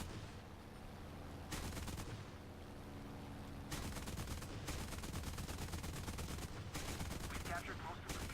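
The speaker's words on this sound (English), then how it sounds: "We're gonna take this IL-2 out for a gun run." Bursts of machine gun fire from an IL-2 ground-attack aircraft on a strafing run in War Thunder, sustained and loud over a steady engine drone, with brief gaps between the long strings of rounds.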